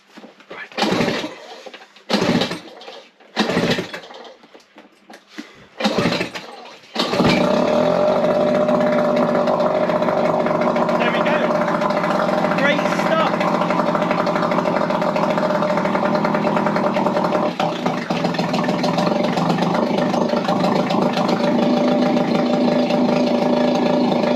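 A 2-stroke 3.3HP outboard motor starts after several short pull bursts, then runs steadily and loudly at a close, even idle in neutral for the rest of the stretch.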